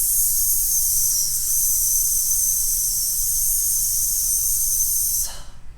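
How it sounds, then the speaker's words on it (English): A person hisses out a long, steady breath through the teeth as part of an abdominal breathing exercise, a close, loud, unbroken hiss lasting about five seconds before cutting off. "Take a deep breath in from the abs and just hiss."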